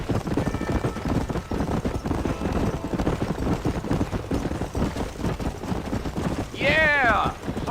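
Horse hooves galloping in a steady rapid clip-clop rhythm in a Western game set in the Old West, continuous and fairly loud, with a short whinny near the end.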